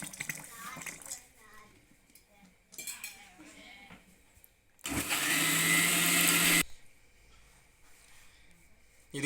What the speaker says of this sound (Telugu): మిక్సీ పట్టుకుందామండి మళ్ళీ.